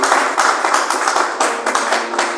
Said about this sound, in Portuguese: Palmas para Jesus, irmãos. Bem grande para Cristo. Palmas para Ele.